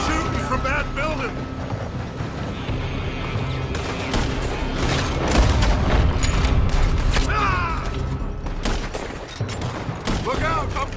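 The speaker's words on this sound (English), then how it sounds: "They're shooting from that building!" Enemies firing from a building in Red Dead Redemption, chapter 5, with repeated gunshots and volleys crackling through a busy, loud scene while shouting voices carry over the shooting.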